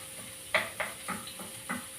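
Ginisang Baguio beans with pork being stir-fried in a pan, with a run of scraping stirs spaced roughly a quarter-second apart over a low, steady sizzle; close and moderately loud, no talking.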